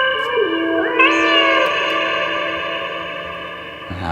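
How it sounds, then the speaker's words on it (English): A cat's meow drenched in a big, posh Eventide hardware reverb, the single tonal cry swelling and then sustaining as a long, smooth echo tail that rings on for several seconds before cutting off. "Just put a big reverb on the cat."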